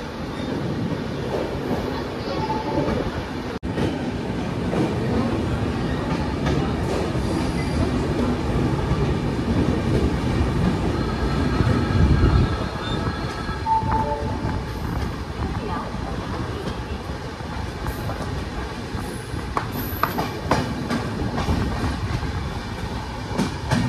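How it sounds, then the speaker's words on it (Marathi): A passenger train, the Jat Humsafar Express 12751, departs Malkapur railway station and rumbles along the rails with a steady heavy roar, occasional wheel squeals and clanks, and voices now and then under the noise. "मलकापूर रेल्वे स्टेशन आपली ट्रेन निघालेली आहे"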